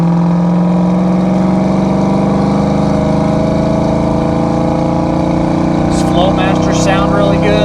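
A 1990 Ford Mustang LX with the 5.0 V8 and automatic transmission pulls hard on blacktop, its engine note climbing steadily from inside the cabin, loud and continuous.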